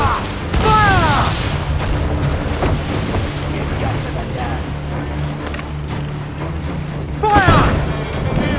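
Broadside cannon fire from a sailing warship in Assassin's Creed IV: Black Flag, heavy booms rolling under constant creaking sea ambience, with shouted commands over the blasts and a louder volley near the end.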